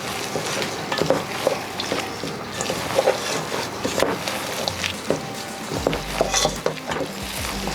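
Meatball mixture for sweet and spicy game day meatballs being worked together in a bowl, a steady run of wet squelching and scraping strokes repeating at an even pace, close up with no talk.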